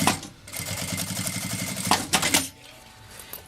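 A sewing machine runs a seam on fabric for a notebook cover, a close, rapid mechanical whirring stitch lasting about two seconds before stopping, followed by quieter handling.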